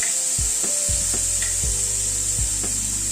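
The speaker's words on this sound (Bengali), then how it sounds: "নুন হলুদ দিয়ে আলু পটলটাকে আবার একটুখানি ভেজে নিচ্ছি।" Potato and pointed gourd frying in a pan with salt and turmeric, a constant bright sizzle with a few dull scraping knocks from stirring, no talking.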